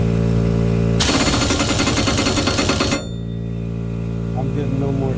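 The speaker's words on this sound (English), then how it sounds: "I'm using an impact wrench. It's a Vapor brand from AutoZone." A Vapor impact wrench hammers loose the blade bolt on a Gravely ZTX-52 zero-turn mower: a loud, dense rattling burst lasting about two seconds, then it cuts off, leaving a quieter steady hum.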